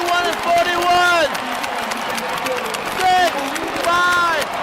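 An arena crowd at the close of a Dallas Mavericks basketball game roars and cheers steadily, with clapping and a loud babble; a voice speaks over the noise in bursts.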